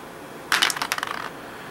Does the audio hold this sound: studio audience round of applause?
no